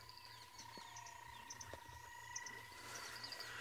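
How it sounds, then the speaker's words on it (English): Morning frog chorus in the South African bush including the tremolo sand frog, with repeated higher clicking calls over steady insect-like trills and pulsing lower croaks, mixed with faint bird calls. "So that's the tremolo sand frog that we've also got out this morning, which is making the higher clicked sounds."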